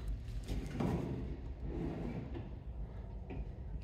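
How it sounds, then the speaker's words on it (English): Soft-close kitchen cabinet drawers and doors in a single-section manufactured home closing gently, with soft muffled thumps and sliding rumbles over a few seconds in a quiet room. "So all doors and drawers are all soft close"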